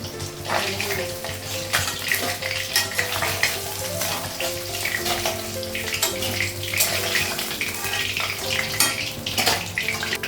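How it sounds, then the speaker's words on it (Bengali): Fish fries in a pan of hot oil with a busy, crackling sizzle, broken by uneven bursts of spattering and clatter that rise and fall throughout. "মাছটা এক সাইডে ভাজা হয়ে গেছে"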